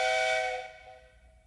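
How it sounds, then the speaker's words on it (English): A single bright steam whistle blast, loud and shrill at first, then fading away over about a second and a half. "Did you get your whistle fixed, Mr. C?"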